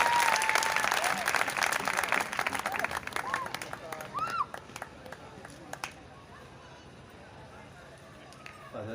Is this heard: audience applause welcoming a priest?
yes